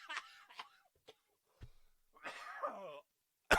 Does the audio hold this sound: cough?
yes